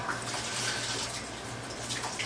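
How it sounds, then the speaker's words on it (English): Half a cup of water poured into a pasty homemade sausage mixture, a steady close hissing pour with no talk. "I'm going to add a half a cup of water."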